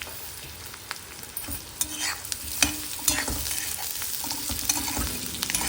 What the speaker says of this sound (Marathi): आता आपण त्यात बटाटे टाकणार कारण बारीक फोडी काय खूप मोठ्या फोडी नाही केलेल्या आणि हे आता आपण परतून घेणार आहोत